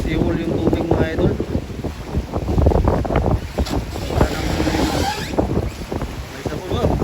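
Strong amihan monsoon wind buffets the microphone at sea, roaring steadily with gusts and wave wash, while voices talk faintly underneath.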